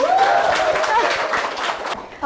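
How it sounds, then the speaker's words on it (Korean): Audience applause at a book talk welcoming an author onstage, a steady patter of many hands clapping at moderate loudness, with a bit of laughter mixed in, fading near the end. "박수로 환영해주세요"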